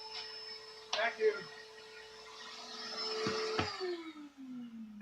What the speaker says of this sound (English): We've got the shop vac running as well as the big ass bandsaw.